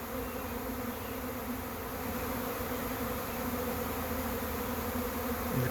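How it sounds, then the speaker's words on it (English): A dense, continuous drone of a honey bee swarm fills the air as the bees move into a trap box and settle on ferns outdoors, with the buzz steady and close. "You can see the bees landing on our ferns here."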